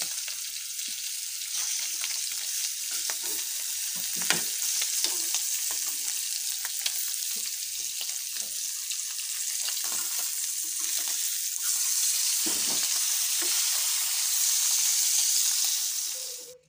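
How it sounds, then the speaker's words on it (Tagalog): Dried fish (tuyo) frying in a pan, a continuous loud, close sizzle and crackle with occasional faint stirring clicks, running steadily before cutting off abruptly at the end. "niluto ko lang ng isahan yung ating pagprito ng tuyo, saka yung pagprito ng inununan"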